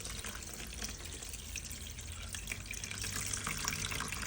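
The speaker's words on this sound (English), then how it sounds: "What I'm going to do is pour it into a container, another container." Coconut milk poured from one container into another, passing through a strainer, making a steady close splashing trickle that runs continuously and grows slightly louder toward the end.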